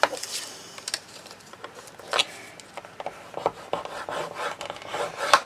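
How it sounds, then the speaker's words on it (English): A bone folder scores paper against a scoring board for a scalloped square memory book, giving a close, dry rasping rub in several short strokes with brief pauses between them. "you'll need your scoring board and a bone folder, and we're going to score these at 1/2 inch"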